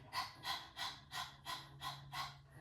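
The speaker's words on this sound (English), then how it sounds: "if you have never done breath of fire, it is just like panting like a dog." Rapid yoga breath-of-fire panting through the nose, seven quick rhythmic bursts of breath at an even pace, close and fairly soft, with no talking.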